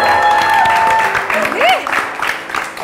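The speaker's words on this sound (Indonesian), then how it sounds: "Tepuk tangan dulu buat Fani." An audience applauds for a guest on a talk show, a short burst of crowd clapping mixed with cheers and voices, loud and close.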